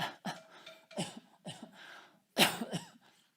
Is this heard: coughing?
yes